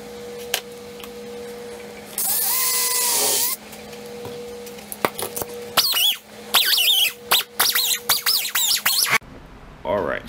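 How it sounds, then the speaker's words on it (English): A pine cone and resin blank is turned on a wood lathe, with bursts of loud scraping and gouge chatter in irregular, close-up passes, separated by pauses and a steady background hum. "We'll get it on a lathe and start turning it."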